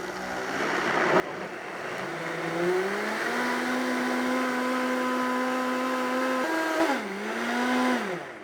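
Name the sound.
blender blending a no-oil sauce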